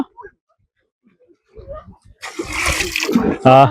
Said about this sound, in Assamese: গা ধুৱালে গৰু গা ধুৱালো